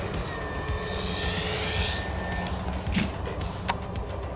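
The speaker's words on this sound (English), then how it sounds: "this Super Tucano that was super happy hovering until the ESC shut power off because the battery's voltage sagged below the cutoff threshold" An RC Super Tucano model plane hovers with a loud, steady motor whine, which then cuts out abruptly as the ESC shuts off power on a sagging battery. No one speaks.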